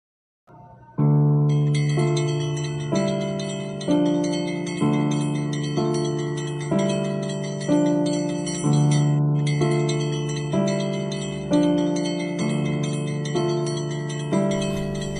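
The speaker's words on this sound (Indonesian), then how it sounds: "Sandiwara ini kita mulai dengan suara detak-detik lonceng yang menggema memenuhi ruang." An echoing bell sound effect opens a theatre drama, striking about a dozen loud, ringing tones in a steady ticking rhythm, each decaying into reverberation before the next.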